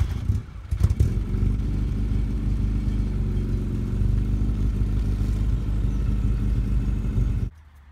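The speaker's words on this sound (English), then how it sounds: "Start the engine and print the shirt." A car engine idles and runs steadily with a low rumble and some clatter as a painted tire rolls over a shirt to print a tire track, cutting off abruptly near the end.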